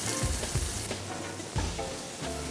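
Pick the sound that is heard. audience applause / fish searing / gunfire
fish searing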